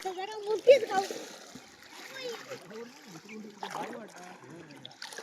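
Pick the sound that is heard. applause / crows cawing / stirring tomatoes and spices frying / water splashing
water splashing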